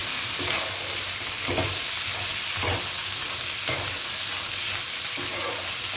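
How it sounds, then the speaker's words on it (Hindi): Black chickpeas cooked as prasad are stirred in a pan over a constant frying sizzle, with soft scraping strokes roughly once a second, close by and without talk. "और इसको एक बार मिक्स कर लेंगे।"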